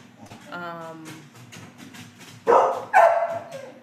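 A pet dog barks twice, loud and close, after a stretch of someone speaking with faint yips in the background during a podcast recording.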